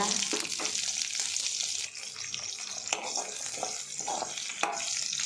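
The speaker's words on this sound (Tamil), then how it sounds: "நல்லா வதக்கி விடணும்." Small onions sautéing in a pan for an anchovy fish curry give a steady hiss and crackle, with repeated clicks and scrapes of a spoon stirring them.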